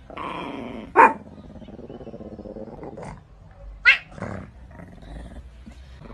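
A dog growls and barks in a comedic anime-style clip, with a sustained low growl broken by a few sharp, loud barks near the start, middle and end.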